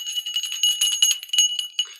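A small broken bell used for spiritual protection rings with quick, bright jingling strikes in a rapid, uneven series, close and fairly clear with no talking.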